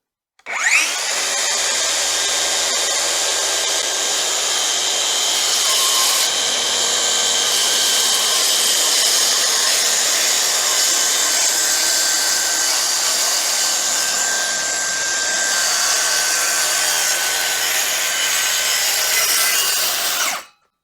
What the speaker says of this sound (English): that's cutting into this board and just trimming this off even with the line I'm cutting.